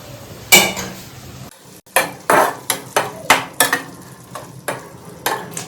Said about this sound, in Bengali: তো এই মোমেন্টে আমাদের একটু নাড়িয়েও দেখতে হবে।